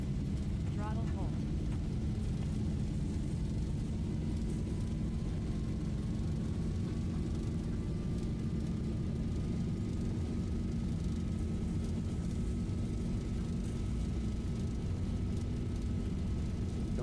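A Boeing 737 in the Zibo mod flight simulator rolls down the runway at takeoff thrust, a loud, sustained engine roar with a slowly rising whine throughout.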